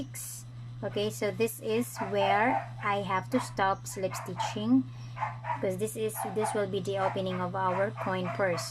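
A dog barks repeatedly in short bursts and yips close by, while someone talks steadily through a crochet lesson on making a coin purse.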